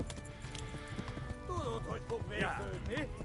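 Horse hooves clip-clopping at a run in the medieval game Kingdom Come: Deliverance, steady rapid beats under a busy game soundscape, with a few brief whinny-like calls toward the end.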